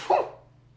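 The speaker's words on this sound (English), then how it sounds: "I need to sneeze." A single short, sharp sneeze, close and fairly quiet, followed by a brief fading tail and near silence.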